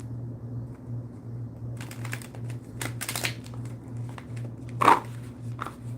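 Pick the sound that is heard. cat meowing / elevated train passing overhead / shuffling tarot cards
shuffling tarot cards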